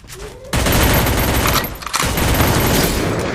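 Loud, rapid shotgun gunfire from an M1887 lever-action shotgun in the Free Fire mobile battle game, a dense burst of blasts after a brief quieter lead-in, pausing briefly before another sustained volley.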